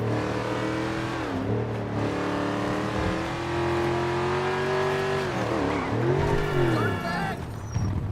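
A Ford SVO straight-four engine in a driving video game revs hard with a deep, V8-like tone, climbing and dropping in pitch through gear changes, loud and close throughout.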